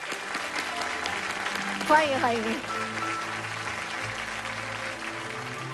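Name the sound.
audience applause welcoming a guest on a TV show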